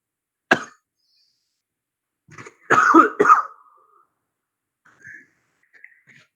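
A single sharp cough, then after a pause a rougher burst of two or three coughs with throat clearing, close to the microphone in a quiet room.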